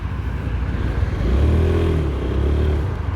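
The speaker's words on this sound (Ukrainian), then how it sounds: "Заводиться гарно, двигун працює тихо, без посторонніх шумів, ідеальна робота." A Honda Dio 110 JF31 fuel-injected scooter engine runs steadily close by, a low continuous hum with a slight swell in the middle and no other sounds.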